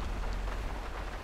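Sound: rain in the video game GTA 5

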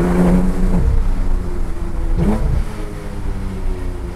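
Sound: Porsche 991 GT2 RS or GT3 RS engine revving

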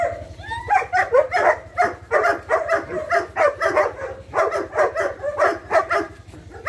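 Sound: dog barking during protection training

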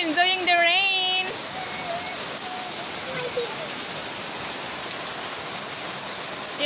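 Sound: rain falling

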